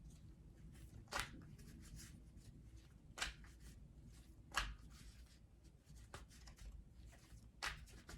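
Tarot cards are shuffled by hand in quiet, close riffles, with a few sharper bursts spaced a second or two apart over a soft continuous rustle and no talking.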